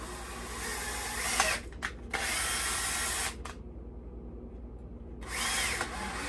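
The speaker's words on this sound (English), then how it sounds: "Got my quarter 20 tap in my drill." A power drill driving a 1/4-20 tap to clean threads in an outboard motor midsection whirs loudly in sustained bursts, briefly stopping and restarting, with a quieter lower hum during the pause before spinning up again.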